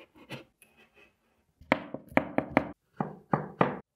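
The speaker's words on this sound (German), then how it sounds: "Und wir klopfen 4 weitere kleine Holzdübel hier oben in unser Bauteil ganz einfach hinein." Small wooden dowels are knocked into an IKEA Trofast shelf panel, giving a few soft taps followed by a quick series of about eight sharp, close wooden knocks in irregular rhythm.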